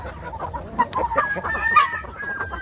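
Chickens clucking and a rooster crowing nearby as the flock waits for feed of rice leftovers, several overlapping calls, close and fairly loud.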